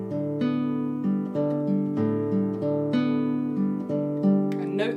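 An acoustic guitar plays the fingerpicked arpeggio pattern of a song on open strings without a chord fretted, a steady run of ringing plucked notes that is close and clear.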